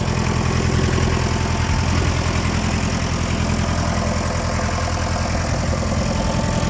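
An International 885XL farm tractor engine idles steadily, filling the clip with a loud, close, continuous diesel rumble and a constant vibrating drone, with no voices.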